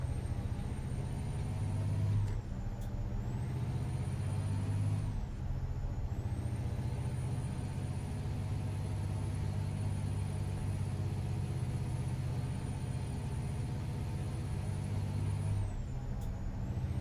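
A heavy truck in American Truck Simulator idles with a constant low engine rumble, while sharp hissing air-brake releases cut in a few times, at the start, around five seconds and near the end.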